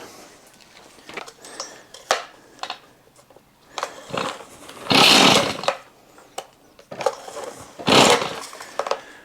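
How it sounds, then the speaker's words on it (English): A chainsaw cuts wood into lengths for a bin, with two loud, close buzzing bursts of cutting separated by quieter handling noises. "will you just chainsaw it into lengths for the bin?"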